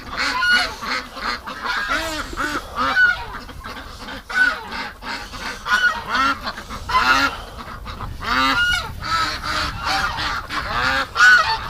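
Penned ducks honk and quack repeatedly in winter, a busy chorus of overlapping nasal calls that stays close and continuous throughout.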